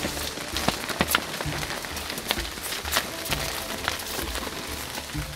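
Light rain patters steadily on a surface, with scattered sharper drops and splashes throughout, fairly close and soft.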